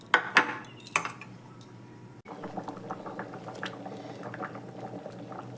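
A prawn and potato curry boils in a pot with a steady bubbling, close by, with a few utensil clinks and light knocks near the start.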